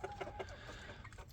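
Roosters with full tails but no combs cluck and murmur nearby in a brief, busy burst of overlapping calls, with steady farmyard background throughout.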